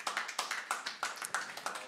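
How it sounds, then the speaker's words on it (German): Students in a comedy studio audience applaud, a sparse, rhythmic clapping of a few hands with steady repeated claps, fairly close and light. "Das ist der motivierte Applaus von Leuten, die in der Pandemie studieren"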